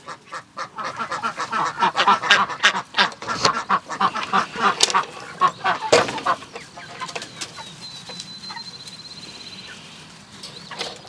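A flock of chickens, including silkies, calls out in a dense, overlapping chorus of squawks and honks in the morning, busy at first and thinning out toward the end.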